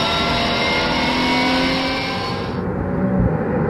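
Race car engines roar steadily at the Dijon-Prenois circuit in France, a loud sustained drone with a shift in pitch near the end as cars brake and accelerate through a corner.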